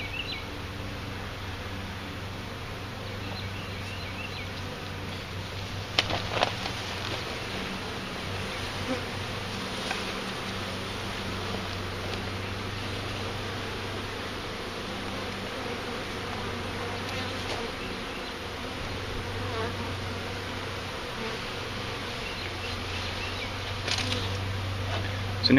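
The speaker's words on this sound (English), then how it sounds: "he'll start brushing the bees into their hive" A steady, dense drone of many honey bees buzzing continuously at close range while being installed into a hive, with a few faint knocks and rustles breaking through.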